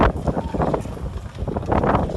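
Strong gusting wind during a dust and hail storm north of Ar Rass, Saudi Arabia, roaring and buffeting the microphone in uneven surges that swell loudly near the end.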